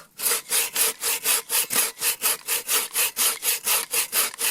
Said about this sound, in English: Let's see if it cuts well. We'll slice this one up here for firewood.